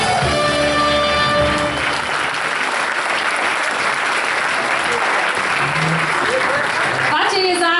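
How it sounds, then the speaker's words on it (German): Dense indoor applause from a large carnival crowd at a children's proclamation ceremony, continuous and loud, with brief voices and music at the start and end. "Das ist euer Applaus!"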